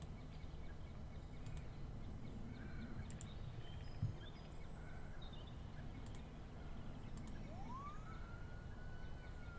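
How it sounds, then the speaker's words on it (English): A faint video-game siren wails in the distance over a steady background hum, one rising sweep standing out near the end. "I can hear a siren."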